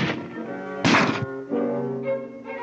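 A .30 caliber carbine fires through partitions in a 1961 US Army firing demonstration: a single sharp, loud report with a brief ringing tail, standing out against a steady background hum.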